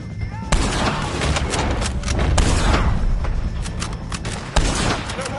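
Gunfire in Red Dead Redemption 2 against O'Driscolls, a rapid volley of loud, sharp shots and booming blasts in quick bursts, with voices shouting in between.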